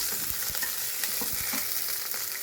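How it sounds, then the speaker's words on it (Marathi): Green chillies, curry leaves, kasuri methi and asafoetida sautéing in hot oil, a steady sizzle broken by repeated spatula scrapes and stirring knocks, close and moderately loud with no talking. "आता हे परतवून घेऊ"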